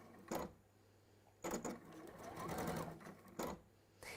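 Sewing machine stitching fabric in short bursts, several quick mechanical whirring runs separated by brief pauses, close and fairly quiet.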